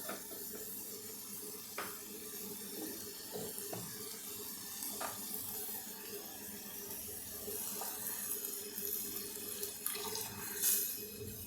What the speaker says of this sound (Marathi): आता मी यामध्ये पाणी घालून घेते अंदाजाने